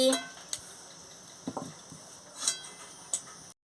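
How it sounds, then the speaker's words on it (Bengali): A karai (wok) being set down on a home kitchen stove, giving a few brief metallic clanks and knocks spread out over a few seconds, close by and fairly quiet. "কড়াটা বসিয়ে দিচ্ছি"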